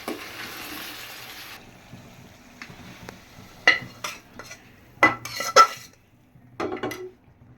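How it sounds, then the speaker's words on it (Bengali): Meat and rice for chicken biryani stirred together in a pot, with scattered scraping and clinking strokes of a spoon against the metal, some close and sharp, set against a soft background hiss. "এখন আমি দুইটাকে একসাথে মিক্স করবো"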